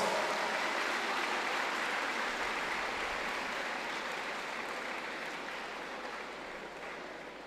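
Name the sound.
audience applause at school prize giving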